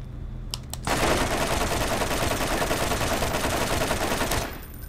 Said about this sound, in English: Dang, I burned through all the assault rifle. You know, that fire rate is just really quick